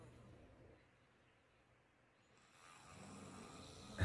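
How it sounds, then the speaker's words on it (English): A person asleep on a love seat snores softly, with a slow breath rising into a louder rough snore near the end, faint and alone in a quiet room. "sleeping and snoring."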